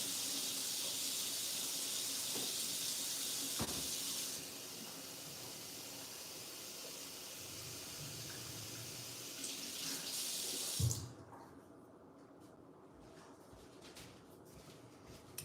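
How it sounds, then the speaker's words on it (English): A kitchen or bathroom tap runs steadily with a bright, hissy stream for about eleven seconds, then shuts off, leaving a quiet room with faint background sounds. "I'm gonna get some water."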